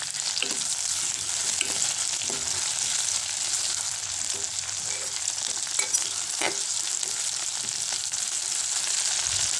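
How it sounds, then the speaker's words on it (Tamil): Chopped tomato and onion fry in hot oil for idli sambar, giving a steady, close sizzle with occasional light clicks of stirring throughout. "தக்காளி நல்லா மசிகிற அளவுக்கு தாளிச்சிக்கலாம்."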